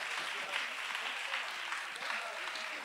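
A woman in an audience claps and cheers during a church testimony gathering, steady dense applause holding at an even level throughout.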